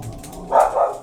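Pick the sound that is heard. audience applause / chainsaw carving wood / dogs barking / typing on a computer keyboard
dogs barking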